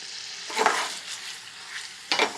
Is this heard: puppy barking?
no